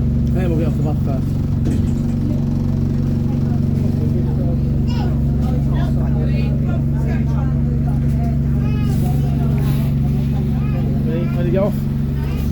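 Low engine rumble heard from inside a moving replacement bus, steady throughout with loud voices and chatter from passengers over it.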